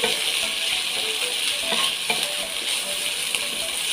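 Ginger garlic paste fries in hot oil for chole masala. A loud, steady sizzle runs throughout, close up, with occasional faint stirring scrapes and no voices.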